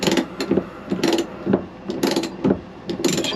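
A fresh water line fitting with an O-ring is screwed in by hand on a 1988 Bluebird Wanderlodge FC35, giving a series of close, repeated ratcheting clicks in an uneven rhythm.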